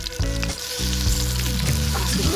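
Tomatoes fry in olive oil in a pot outdoors, giving a loud, steady sizzle with bursts of crackling and a low hum underneath, no voices.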